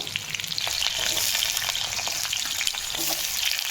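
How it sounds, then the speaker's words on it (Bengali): Potatoes frying in oil, a loud, close and constant crackling sizzle with bright spitting pops and faint stirring, unbroken for a few seconds. "আলুগুলো আমি লাল লাল করে ভেজে নেবো"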